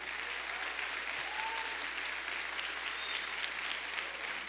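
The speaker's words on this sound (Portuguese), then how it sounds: "Então aplauda ao Senhor essa noite." A church congregation applauds in an evening service, a continuous, even wash of many hands clapping at moderate distance. A faint voice calls out over it.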